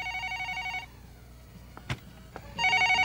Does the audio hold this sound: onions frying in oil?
no